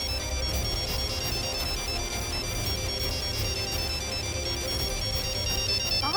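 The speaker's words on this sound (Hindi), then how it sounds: "बेल बज रही है।" A repeating electronic phone ringtone plays steadily over a low background hum, a bright melodic pattern cycling several times without pause.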